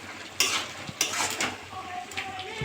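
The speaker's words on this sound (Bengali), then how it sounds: "নেড়ে চেড়ে নেবো।" A spoon stirs a spinach, bean and potato curry in a pan, making a few soft scrapes and light clinks spread over a couple of seconds, quiet and close.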